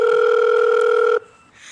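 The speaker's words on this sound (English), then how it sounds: "you should prank call Toy Chica" A telephone tone sounds for a prank call in an animated cartoon, a loud steady electronic tone holding for about a second before cutting off.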